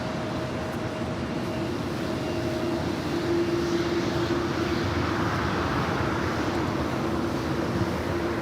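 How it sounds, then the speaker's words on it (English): A United Airlines Boeing 757-300 arriving from Chicago O'Hare at Los Angeles International Airport, landing on the south side, gives a steady, continuous jet roar that swells slightly midway, heard from a distance with no voices. "United Airlines Flight 1584, a flight coming in from Chicago O'Hare, a 757-300, arrival here on the south side"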